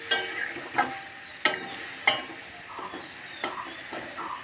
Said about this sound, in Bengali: এবারে দিয়ে দিচ্ছি একটু জল, দিয়ে একটু নাড়াচাড়া করবো।